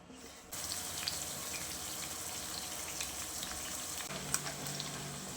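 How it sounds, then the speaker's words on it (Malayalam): Masala-marinated chicken drops into hot oil left from frying onions, setting off a sudden, steady, close sizzle and crackle that runs without pause to the end. "സവാള വറുത്ത അതേ എണ്ണയിലേക്ക് തന്നെ നമ്മൾ മസാല പുരട്ടി വെച്ചിരിക്കുന്ന ചിക്കൻ ചേർത്ത് കൊടുക്കാം"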